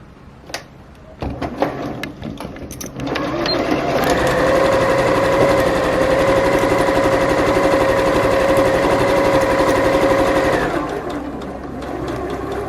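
A sewing machine stitches a strip of jubilee bunting, a steady loud whirring run of about seven seconds with a clear tonal hum, preceded by a few clicks and handling knocks and then fading back to quieter room noise.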